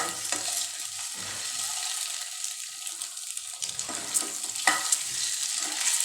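Steady hiss and crackle of an egg frying in a pan, with a few scraping stirs of a utensil, alone without talk.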